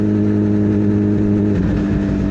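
A Suzuki Hayabusa fitted with a knockoff Brocks Alien Head slip-on exhaust, swapped in for Yoshimura RS3s, runs with a loud, close, steady engine rumble that shifts and roughens near the end.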